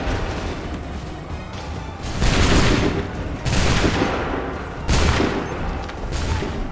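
Musket volleys crack out in Assassin's Creed 3, three loud massed bursts of gunfire separated by short pauses, each ringing out over a low battlefield din.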